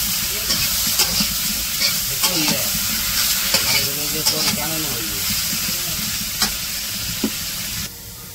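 Spiced eggplant coated in turmeric, chili and salt fries in a pan in a village kitchen. A loud, close sizzle runs throughout, broken by repeated stirring scrapes and clinks, and a faint voice is heard briefly.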